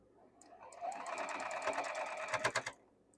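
Sewing machine stitching quilt block pieces for Tula Pink modern blocks, a steady close whirring run of needle strokes that builds, then ends in a few louder uneven clunks.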